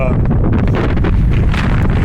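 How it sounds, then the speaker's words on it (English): Loud wind roars and buffets the microphone continuously on a walk at a plantation, a heavy low rumble with gusts, nearby and overwhelming. "It's hella windy out here."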